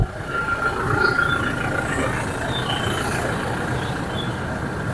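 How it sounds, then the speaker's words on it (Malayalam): A Toyota Fortuner 4x2 automatic, engine bay neat and clean, idles steadily after a short drive, a low continuous rumble with a faint whine above it, close and even throughout, no talking. "അപ്പോൾ നമുക്ക് ഇനി ഇത് സ്റ്റാർട്ട് ചെയ്ത് ഇതിൻ്റെ സൗണ്ട് ഒന്ന് കേൾക്കാം."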